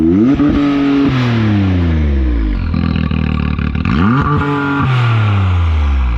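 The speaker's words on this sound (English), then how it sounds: "did you rev it again?" A car fitted with an RPM Sport E-Valve muffler revs repeatedly, the loud close exhaust note climbing and falling through several throttle blips, with engine drone between them.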